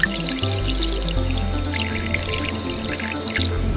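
Tap water runs steadily at a faucet while a washing machine part is rinsed beneath it, a loud close splashing and gushing stream with no talk.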